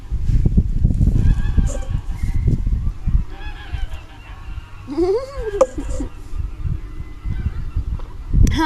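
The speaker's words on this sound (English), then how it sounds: "Can you hear the noise of the goose?" A goose honks outdoors in a few wavering, nasal calls that come and go, moderately close, alongside rumbling wind or handling noise and scattered lower sounds.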